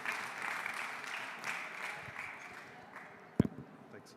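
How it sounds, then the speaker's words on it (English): Audience applause after a startup pitch on an innovation stage at a 2021 festival, a steady, fairly faint patter of many hands for a few seconds, with a brief sharp knock near the end. "Round of applause for Martin."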